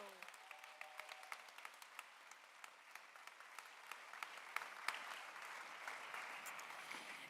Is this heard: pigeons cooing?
no